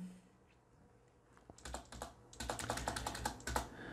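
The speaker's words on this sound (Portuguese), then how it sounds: "Vamos digitar aqui 1." Typing on a computer keyboard: a few soft taps, then a rapid run of crisp, close key clicks that grows denser toward the end, with no talk.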